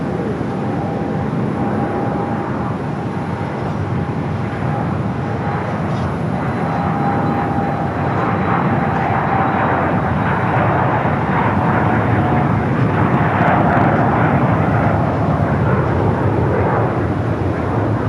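A jet airliner at Phoenix Sky Harbor takes off from runway 25 right, its engines a steady, broad roar that holds loud and constant for the whole stretch, with a thin whine running through it.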